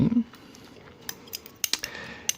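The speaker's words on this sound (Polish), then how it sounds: "wezmę teraz nożyczki" Scissors snip near the ear in a quiet shamanic curse-removal roleplay, with a few short, crisp cuts clustered toward the end, spaced irregularly over soft background hiss.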